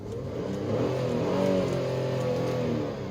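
A 2009 Hyundai Grandeur TG car engine revs up and settles back, a rising and falling roar heard close by with no voices.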